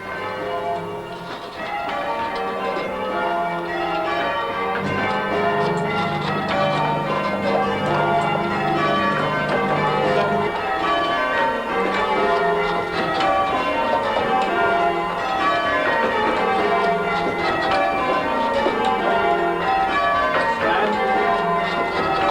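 Church tower bells ring in a continuous, loud peal, overlapping strokes cascading in repeated descending patterns throughout.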